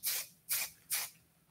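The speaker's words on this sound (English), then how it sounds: "And then I'll come in afterwards with the glossing spray" Hair glossing spray comes from a can in three short, even bursts, each a soft close hiss with brief pauses between, heard alone and fairly quiet.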